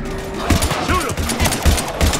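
Video game shootout against Husks: rapid bursts of gunfire rattle over a busy battle mix, close and loud, with shouted voices mixed in.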